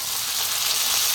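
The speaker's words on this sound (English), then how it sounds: "Let's drop in our tuna," Canned tuna dropped into a hot pan, a loud close steady sizzle of frying filling the whole moment without pause.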